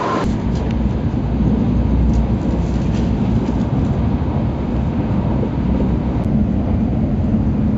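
A steady low rumble and whoosh from inside a moving Japanese train heading to Osaka, constant and fairly loud, with faint rattles and no talking.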